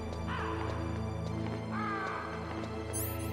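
Crow caws in the video game Metal Gear Solid, a few harsh calls over a steady hum of game ambience and music.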